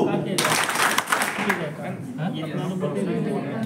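An audience claps in a hall, a dense burst of applause that thins out as a voice talks over it.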